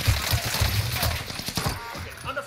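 Bursts of gunfire in a battle royale video game, rapid low thumping shots repeating through the first half, then sparser hits, with game noise and faint voices behind.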